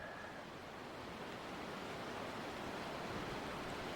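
Creek water runs under a bridge, a steady broadband rushing that stays even and fairly faint throughout with no voices.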